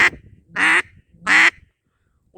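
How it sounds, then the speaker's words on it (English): Two loud, sharp quacks blown on a cheap Buck Gardner double reed duck call, close up with a short pause between them and a brief trailing sound at the end. "That's the quack."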